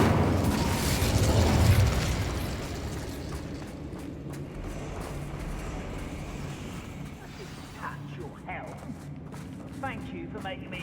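A burst of fire from the Incendio spell in Hogwarts Legacy, set in a cavern, flares loudly in a roaring whoosh that fades over a couple of seconds, followed by quieter rumble and small game effects, with a voice speaking over part of it.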